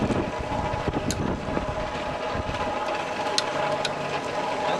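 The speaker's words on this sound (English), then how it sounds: "Got a good stiff wind coming out of the south today." A stiff southerly wind blows outdoors beside a blacksmith's coal forge, a steady rumbling roar that buffets the microphone throughout with no pauses.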